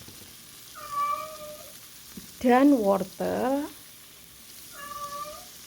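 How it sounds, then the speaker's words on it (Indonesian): A pet cat that is unwell meows twice, loud and close, in a home kitchen with a quiet sizzle from a pan underneath. "itu kucing saya ya teman, lagi nggak enak badan"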